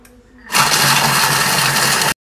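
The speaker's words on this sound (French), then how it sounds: "Hop, j'insère mon couvercle, mon gobelet doseur et je programme 2 minutes." Thermomix food processor running at speed 4, a loud close motor whir that starts abruptly and holds steady for about a second and a half before cutting off.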